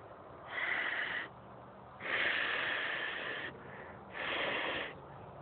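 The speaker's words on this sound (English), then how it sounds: "Apply some hot air from my breath." Warm breath is blown into a fist holding gallium: three long, breathy hissing exhales with short pauses between them, close and fairly soft, no speech.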